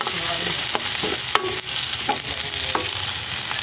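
Garlic frying in oil left over from frying tilapia, a steady loud sizzle with occasional clinks and scrapes of a utensil stirring in the pan.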